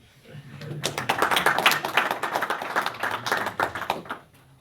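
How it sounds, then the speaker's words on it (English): Audience applause at an investors' conference: dense, sustained clapping from a room full of people that swells in quickly, holds steady for about three seconds, then fades out. "I think that deserves a round of applause"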